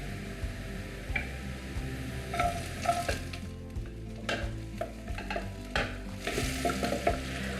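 Green chillies are stir-fried with ginger and garlic on a high flame for gobi manchurian. A crackling sizzle sits under brisk, rhythmic scraping and clicking of a spoon against the pan.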